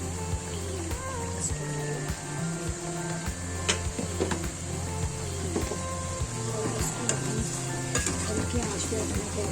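Okra and beef curry (bhindi gosht) cooks in a pan, giving a steady, dense sizzle with occasional clinks and ticks. A low hum runs underneath, and there is no clear speech.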